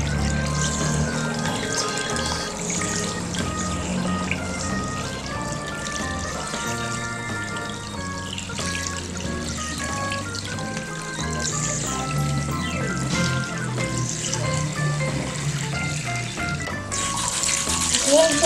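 Tap water pours steadily into a sink over the stone block of a toy dinosaur excavation kit, a loud, continuous rushing splash with tonal background sound running underneath throughout.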